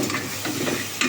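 Onions with curry leaves and ginger-garlic paste sauté in a pan for Saidapet-style vadacurry, giving a brief, steady, close sizzle with soft stirring scrapes and no talk.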